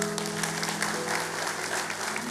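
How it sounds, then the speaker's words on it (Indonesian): A church congregation applauding during worship, a thick steady roar of many hands clapping at once, fairly loud and unbroken, with faint sustained tones underneath. "Kasih tepuk tangan untuk Tuhan."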